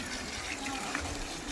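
Water from a tap fills a container at a masonry work site, a steady gushing pour that runs without a break from start to end.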